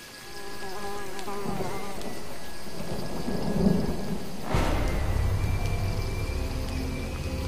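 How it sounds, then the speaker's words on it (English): Steady video game rain hisses throughout with a low rumble of thunder rolling in partway through, accompanied by a faint insect-like buzz, in Jurassic Park: The Game. "At least, the rain's easing up."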